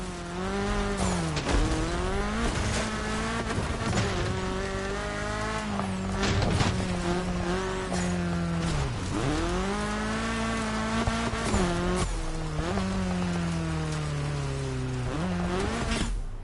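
A racing car's engine revs hard downhill on a mountain descent in The Crew Motorfest, its loud, continuous whine rising and falling through gear shifts with occasional tire squeal, and no talking.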